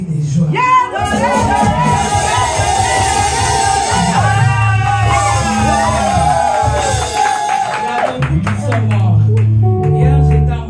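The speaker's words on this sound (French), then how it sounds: "Pousse des cris de joie." Church congregation shouting cries of joy, a loud mass of overlapping shouts, whoops and clapping, with sustained voices and cheering rising and swelling throughout.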